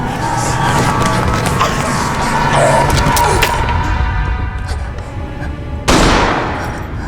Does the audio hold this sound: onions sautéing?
no